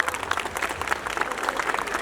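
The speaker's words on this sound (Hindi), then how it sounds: "इन दोनों के लिए एक बार जोरदार तालियां।" An audience at a school annual day applauds the chairman and a guest, continuous clapping at moderate level with a low crowd rumble beneath.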